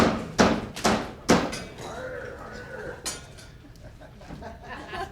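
Hammer blows while shingling a roof at a builders' challenge: three loud, sharp strikes in quick succession followed by a softer knock and quieter clatter, close by.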